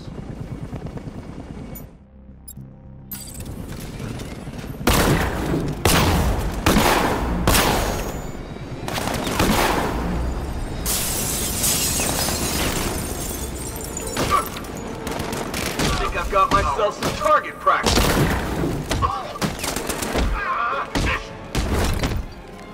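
Rapid bursts of movie gunfire crackle through a tense standoff scene, loud and dense with repeated volleys and thuds over roughly twenty seconds after a brief quiet opening, with a low helicopter-like rumble underneath.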